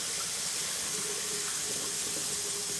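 Organic white rice being rinsed in water at a kitchen sink: a steady wash of running, splashing water that carries on without pause and with no voices.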